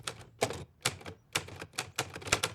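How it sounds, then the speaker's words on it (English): A manual typewriter clacks in an irregular run of sharp keystrikes, about a dozen hard mechanical taps in quick bursts, close and clear with no talk. "I will never understand how people are able to use typewriters like that without having backspace."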